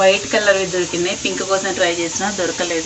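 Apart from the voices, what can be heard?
pressure cooker hissing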